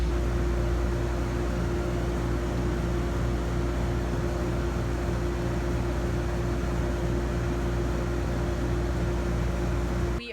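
A laser engraver runs with a steady, unbroken mechanical hum and a constant tone, close and even throughout.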